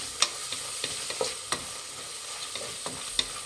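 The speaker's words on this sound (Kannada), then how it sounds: "ಎಣ್ಣೆಲಿ ಚೆನ್ನಾಗಿ ಫ್ರೈ ಮಾಡಿದ್ರೆ ಬಟಾಣಿ ಬೇಗ ಬೇಯುತ್ತೆ" Overnight-soaked peas frying in oil while being stirred for peas rice bath, a soft continuous sizzle broken by sharp scraping and tapping of the spoon against the pan at irregular intervals.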